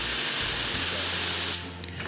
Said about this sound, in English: So this is a steam wand. It blows steam, which we use to warm up or heat up our milk